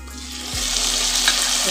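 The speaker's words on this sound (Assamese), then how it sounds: "আৰু এতিয়া মই ইয়াতে দি দিম কুকুৰা মাংসখিনি অকণমান ভাজি ল'ম" Pieces of local chicken meat sizzle and fry steadily in a hot pan at home, a loud, close, continuous crackle with a brief stirring clatter near the start and no talking.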